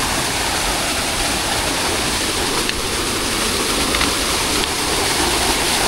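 A river rushes loudly and steadily near a rope-aided crossing on the Torean trail up Mount Rinjani, its dense roar continuous and close throughout.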